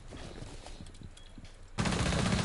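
Gunfire in Rainbow Six, a quick series of sharp shots, followed by a sudden loud burst of noise near the end.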